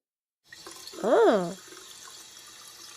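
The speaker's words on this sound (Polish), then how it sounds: "No odkręć gorącej wody." Hot water tap turned on in the video game Yesterday: a faint rush of running water begins, swells briefly with a loud gush, then settles into a steady low trickle, with no one talking over it.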